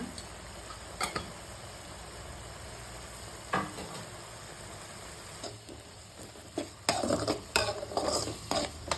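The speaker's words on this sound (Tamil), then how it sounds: "தக்காளி நல்லா வதங்கி எண்ணெய் பிரிஞ்சு வர அளவுக்கு வதங்க விடுங்க" Tomatoes with turmeric sizzle quietly in hot oil in a pan, with occasional scrapes and clinks of a utensil stirring.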